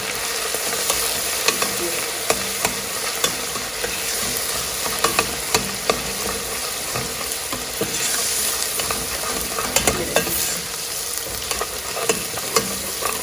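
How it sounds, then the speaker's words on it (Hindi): Garlic and ginger paste frying in a pot for beef paya curry, a loud continuous sizzle with frequent scraping stir strokes close by. "आपको नज़र आ रहा था लहसुन और अदरक अच्छी तरह भून रहा है"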